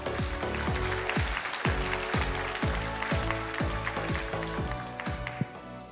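A crowd claps continuously while upbeat music plays with a repeating, rhythmic pattern underneath, welcoming a crossover vocal group on stage at an awards ceremony.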